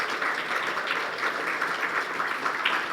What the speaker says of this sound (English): A round of applause for the entire panel